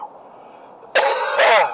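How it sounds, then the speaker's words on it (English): A single person coughs, a sharp burst and a second heavier hack close to the microphone after a moment of quiet breathing. "Causing me to cough."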